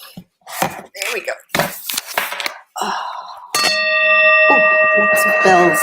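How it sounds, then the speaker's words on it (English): Temple bells ring with sustained metallic tones, struck loudly once and left to resonate after a stretch of voices and clattering knocks. "Lots of bells to bang around here."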